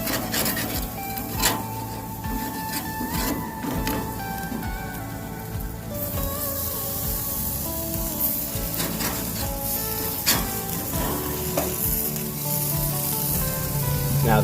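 Chicken breast sizzling in sauce in a hot pan, a steady crackling hiss with occasional pops and scrapes, close and continuous under faint background music.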